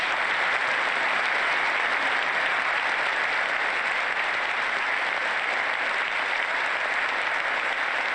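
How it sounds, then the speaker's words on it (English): Sustained, loud applause fills a large chamber during a presidential State of the Union address, a dense wash of clapping from a big crowd with no speech over it. "Republicans basically clapping for just about everything Joe Biden said on the issue of Russia-Ukraine."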